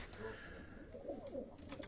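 Soft, low cooing comes from a pigeon fancier's kept pigeons, a faint, rolling murmur heard close by in a quiet space.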